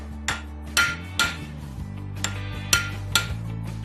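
A blacksmith strikes hot metal with a fuller, driving a groove into the piece. Seven sharp, ringing hammer blows land at an uneven pace over a steady low hum.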